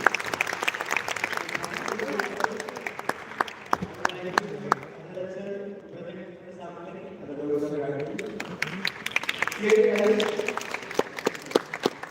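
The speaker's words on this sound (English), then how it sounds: "A big round of applause." Audience applause at a college tech-talk closing ceremony, steady scattered clapping with cheers that dips briefly mid-clip and swells again near the end, with speech and crowd voices mixed in.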